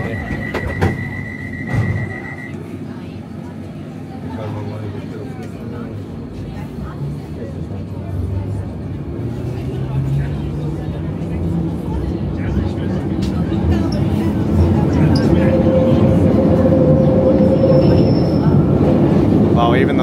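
A crowded London Underground tube train leaving Piccadilly Circus, its rumble and wheel noise building steadily, with brief squeals and tonal whines over the clatter while people talk throughout.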